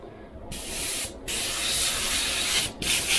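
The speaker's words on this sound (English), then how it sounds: "So that's spraying nice." An airbrush sprays thinned paint in a close, steady hiss, broken by two brief pauses as the trigger is released and pressed again.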